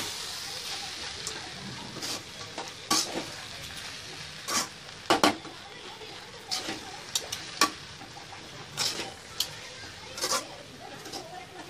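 Spoon stirring avalakki upma, flattened rice with coriander, in a pan: scattered sharp clicks and scrapes at an uneven rhythm over a soft background hiss, close by and moderately quiet.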